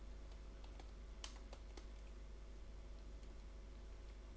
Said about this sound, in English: Now type here keyboard